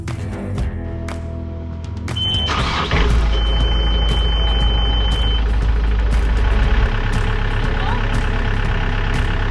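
A car engine idles steadily after a serpentine belt has been fitted, with a low, continuous hum. A short electronic beep sounds partway through, and sharp clicks and knocks come from the work area around the car.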